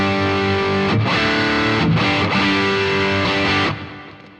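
An electric guitar plays heavily distorted chords through a Boss GT-1000 into two amps, a loud chugging riff with brief gaps between stabs, ending on a ringing chord that is cut off.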